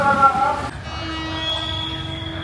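An express train passes through Bang Sue Junction in Bangkok: a brief horn-like tone at the start gives way to a steady, close rolling rumble with sustained metallic ringing.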